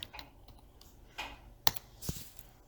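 Soft clicks and taps of typing on a computer keyboard, entering a word into a website search box; the keystrokes come in a short irregular burst, close and fairly quiet.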